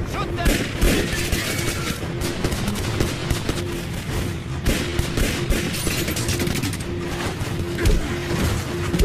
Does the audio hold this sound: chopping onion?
no